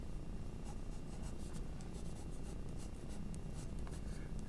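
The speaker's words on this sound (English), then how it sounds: "you can put a line that represents the base of the teeth and kind of sketch the points in there" Graphite pencil sketching on paper, drawing the teeth of an animal, with a steady dry scratching that runs continuously and close up, in short quick strokes and with no voices.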